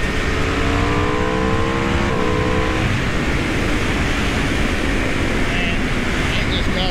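A 2018 Aprilia RSV4 RR sport motorcycle engine roars loud and steady while riding, its pitch climbing under heavy wind rush.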